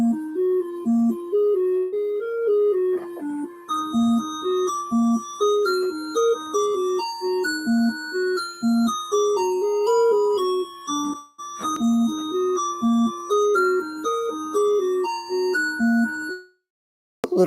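A chiptune music track compiled from MML code plays a bright, bleepy square-wave melody over bouncing bass notes for about sixteen seconds, then stops abruptly, loud and clear with no talking.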